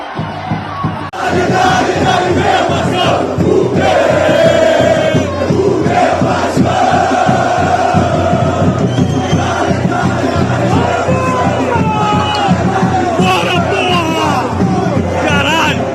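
Vasco da Gama football supporters fill a stadium with loud, sustained massed chanting and shouting, a dense roaring crowd that swells and carries on steadily throughout.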